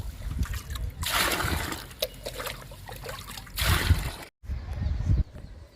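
Neem leaf liquid pours from a big bucket into a smaller bucket, giving a steady trickling, splashing stream with louder sloshing bursts and a short break near the end.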